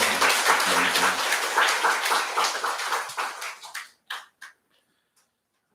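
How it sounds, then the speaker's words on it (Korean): A church congregation applauds in a sustained round of clapping that fades out, ending in a few scattered final claps before silence. "우리 하나님께 영광의 박수 다시 한번 돌리겠습니다"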